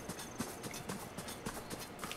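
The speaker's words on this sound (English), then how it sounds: "Every time that horse start pulling in a different direction" Horse hooves clip-clop in the video game Zelda: Tears of the Kingdom, a soft, quick, even run of hoofbeats over a faint background, with no talking.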